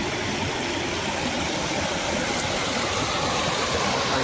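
Water rushes steadily through a dam, a loud, unbroken roar of flowing water close by with no talking.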